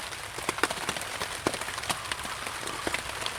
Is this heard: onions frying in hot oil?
no